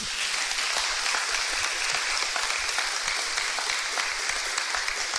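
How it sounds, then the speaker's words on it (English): Sustained applause from a crowd, a dense steady patter of many hands clapping throughout, with no speech over it. "That's worthy of some applause, everyone."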